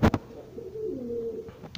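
An Egyptian domestic pigeon gives a soft, low coo lasting about a second, close and fairly quiet, bracketed by brief rustling knocks at the start and end.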